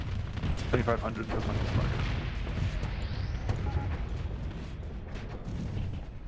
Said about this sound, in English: one Paragon just killed the other with the explosion as well